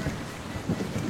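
A short burst of rain and thunder from a sound effect in a Bangla wedding drama scene, a dense wash of rainfall with low rumbling throughout.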